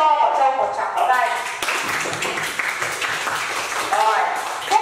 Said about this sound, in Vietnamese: Cả lớp cho quả châu một tràng pháo tay.